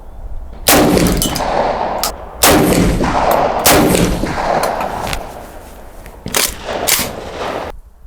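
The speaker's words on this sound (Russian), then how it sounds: "я буду стрелять. Стреляю." Saiga-12 tactical semi-automatic shotgun fired in several loud, sharp blasts spaced a second or so apart, each with a booming tail, close by with no talking.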